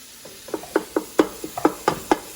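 Ground beef sizzling in a pot on medium heat while being constantly stirred and broken up, with a soft hiss beneath a steady rhythm of about ten close utensil scrapes and taps.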